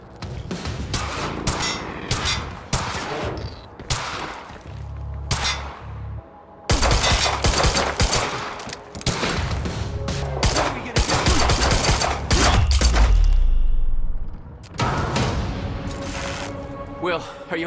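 Gunfire in the action game Quantum Break comes in rapid bursts and single shots, mixed with shattering and impacts. Loud volleys alternate with short lulls, and a few voices shout over the chaos.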